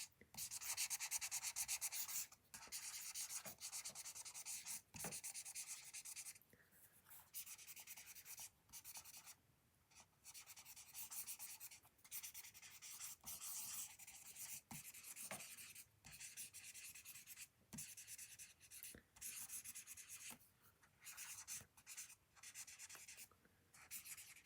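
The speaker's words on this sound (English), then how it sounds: "you can just kind of doodle and scribble while you think about them." Pen or pencil scribbling and doodling on an art journal page, a steady dry scratching with quick strokes and short pauses throughout, close and fairly quiet with no voices.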